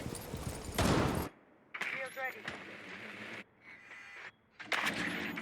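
Gunfire in a Rainbow Six Siege esports match, short bursts of shots trading back and forth at close range, under excited live commentary.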